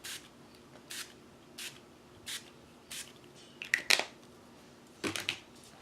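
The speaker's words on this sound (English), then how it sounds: "I'm going to use a little of the black shimmer spray as well." Quick hissing spritzes from a Dylusions black shimmer spray bottle repeat at a steady pace, about six short bursts, close and fairly quiet, with light clicks in between.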